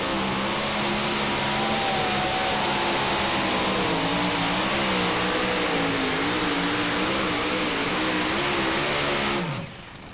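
A Willys two-wheel-drive pulling truck, reportedly with a 289 engine, roars continuously at a 2008 NTPA truck pull in Chapel Hill, Tennessee. The engine holds a loud, strained, slightly wavering drone for about nine seconds, then cuts off abruptly.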